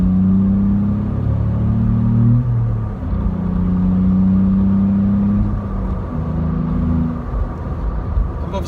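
Low, droning engine note of a VW up! GTI fitted with a Milltek exhaust, heard from inside the cabin while driving, rising and falling steadily with gear changes and a deep resonant boom throughout.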